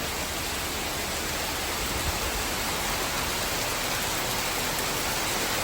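Heavy morning rain pours down in Chennai, a dense, unbroken roar of hiss that stays loud and constant throughout with no voices.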